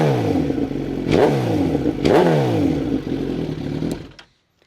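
A 1-litre Suzuki GSX-R 1000 superbike engine is blipped twice in sharp revs that rise and fall back to a rough idle, loud and close, before cutting to silence.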